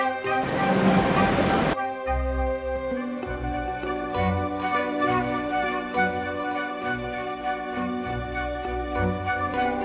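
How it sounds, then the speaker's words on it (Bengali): A Kolkata metro train pulls into Dum Dum station, a burst of hissing air giving way to low rumbling wheels, tonal motor whine and rhythmic rail clatter as it slows, close and steady throughout. "এই দমদম স্টেশনে এখন আমাদের ট্রেন দাঁড়াবে"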